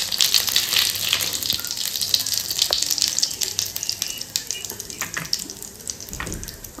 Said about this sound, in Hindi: सबसे पहले मैं छौंका लगाऊंगी इसमें जीरे का